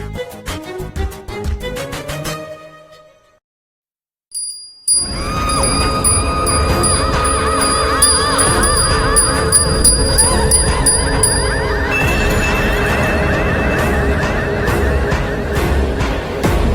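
A bell rings as a haunted-bell effect in a Hindi horror story, where a neighbour rings it during puja. A run of rapid, bright strikes gives way to a brief silence, then a sustained eerie tone dotted with high, pulsing chimes.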